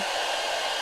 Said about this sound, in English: let me put the blow dryer on it